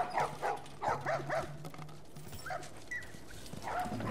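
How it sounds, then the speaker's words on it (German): Dogs in The Last of Us video game bark and yip in a cluster of quick calls, then a few scattered whines, mid-distance under a dull ambient hum. "Hunde. Zum Essen oder zum Wachen oder zum Jagen."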